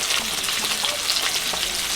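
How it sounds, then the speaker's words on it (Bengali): Fish fries in hot oil with a continuous, bright sizzle and scattered pops, fairly loud and close, with no voices. "এদিকে মাছ ভাজা হচ্ছে"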